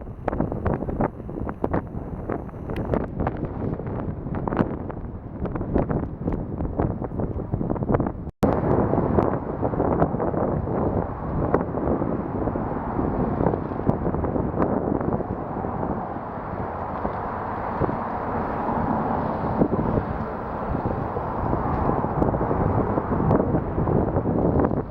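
Strong outdoor wind roaring and buffeting close against the microphone, a dense, loud rush that swells and gusts continuously with one abrupt break, no voices heard.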